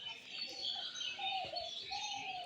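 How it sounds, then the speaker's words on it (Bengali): Birds chirping at dawn outside an upazila health complex, a dense chorus of fairly close tweets and calls with a few pigeon-like coos, fairly quiet and continuous. "পাখির ডাকগুলো আমার কাছে খুবই ভালো লাগে"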